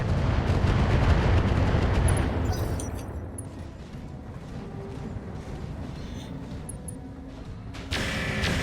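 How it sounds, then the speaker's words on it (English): Mech weapons fire all at once in the video game Roguetech, a loud roaring barrage of booms and bursts that tapers into a quieter rumble before a fresh blast near the end. "Firing everything I've got."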